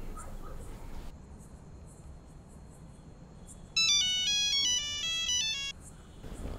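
Phone ringtone from an incoming call, a loud repeating melodic chime pattern that sounds for about two seconds over faint background noise, preceded by low indoor ambience.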